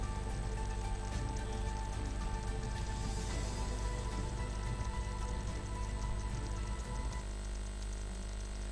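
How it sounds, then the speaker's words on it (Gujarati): Heavy monsoon rain pours down in Nana Pondha, Kaprada, Valsad district, Gujarat, a dense unbroken hiss of drops on surfaces that stays steady and loud from start to finish. "કપરાડાના નાના પોઢામાં વરસાદ વરસ્યો"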